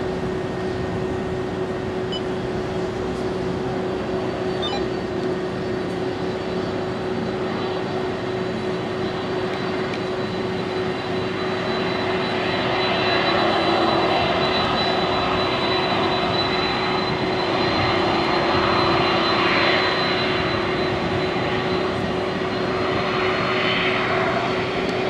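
Air New Zealand airliner landing at Auckland International Airport, a sustained jet engine roar with a steady whine that swells slightly midway, heard from a moderate distance without voices.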